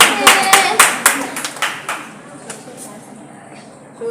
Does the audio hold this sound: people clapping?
yes